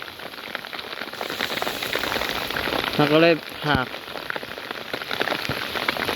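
Steady rain patters on surfaces outdoors at a garden home beside a pond, a continuous close hiss with dense drops, and a person speaks briefly partway through.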